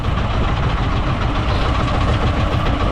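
A fishing boat engine left idling at sea, a steady loud mechanical drone with a knocking rumble that runs unbroken and close throughout.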